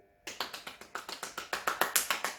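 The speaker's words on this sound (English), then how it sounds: "Are you clapping?" Steady hand clapping, about a dozen sharp, evenly spaced claps heard close and alone, growing slightly louder toward the end.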